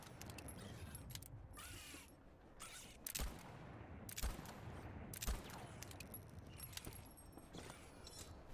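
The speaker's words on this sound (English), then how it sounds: "For now, I'll just focus on shooting the mines." A gun in Voidtrain fires at mines, with three sharp distinct shots spaced about a second apart over a rattling, mechanical background at low volume.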